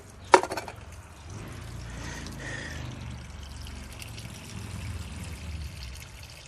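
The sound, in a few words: fluid being drained out from a car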